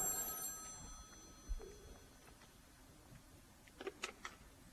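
An old-fashioned telephone bell rings at the start, faint and metallic, then fades under quiet room noise with a few soft clicks and knocks.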